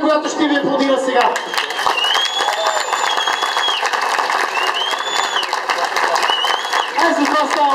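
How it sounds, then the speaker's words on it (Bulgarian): A crowd at a motor racing event applauds the drivers with sustained clapping and cheering, loud and continuous, while an announcer's amplified voice talks over it and whistles rise above. "Момчета, поклон пред най-шумната публика, която ще ви аплодира сега."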